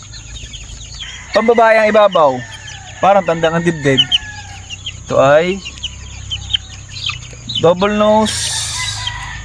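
Chickens cluck in several bursts, with a rooster-like crow among them, near and fairly loud, while a person talks in a local language over the birds.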